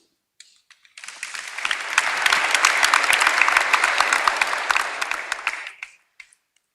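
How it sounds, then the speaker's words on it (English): An audience at a business forum on investing in innovation gives panelists a round of applause. It swells in about a second, holds thick and crisp with sharp individual claps, then cuts off near the end, leaving a few stray claps. "A warm round of applause for our panelists."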